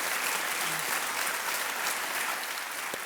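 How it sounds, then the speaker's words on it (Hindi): A studio audience on a televised quiz show claps steadily in a broad, even wash of many hands, sustained and moderately loud with no talking over it. "तालियों के साथ इनका भी स्वागत करते हैं"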